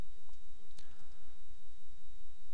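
A single sharp computer mouse click stands out over a low steady hum, with a couple of fainter ticks around it.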